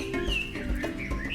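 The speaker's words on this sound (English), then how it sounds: "As songs of birds fill the air." Birds sing through a humid, dense jungle, with bright chirps and tweets layered over a steady background hum, fairly close and continuous.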